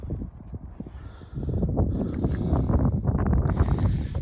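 Wind buffets the microphone on the open top of Helvellyn, a low roaring rush that swells into stronger gusts partway through, close and fairly loud, with no talking.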